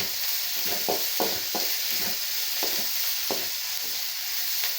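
Onion with a pinch of salt sautéing in oil for red poha upma, a steady close sizzle broken by several soft scrapes and taps of a spoon stirring the pan.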